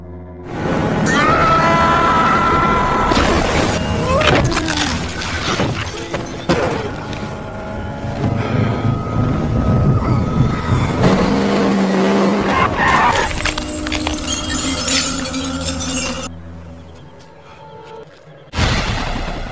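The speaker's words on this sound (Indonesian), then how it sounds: "Mobil Chris dan Billy menabrak sebuah pom bensin dan terbakar" A film scene in which a car crashes into a gas station and burns: loud tire skids and screeching, crashing impacts and roaring chaos across a busy stretch, fading before a final abrupt burst.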